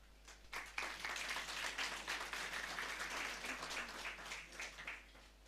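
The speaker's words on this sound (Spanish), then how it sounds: "vamos a dar fuertes aplausos al coro Nueva Alegría." A church congregation applauds the Nueva Alegría choir at a Sunday service, a steady wash of many hands clapping at moderate distance that holds for several seconds without letting up.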